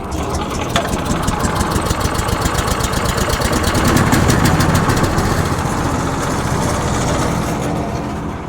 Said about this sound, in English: What I like to do is let it warm up a bit as well, so I'll leave it idling for a bit.